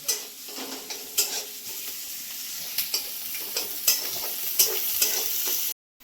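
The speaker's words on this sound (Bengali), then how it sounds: "এবার এটাকে আমি একটু লাল করে ভাজবো।" Chopped onions frying with a little sugar in a pan until reddened, a steady close sizzle broken by periodic stirring scrapes and clinks of a utensil against the pan, ending with a brief silence.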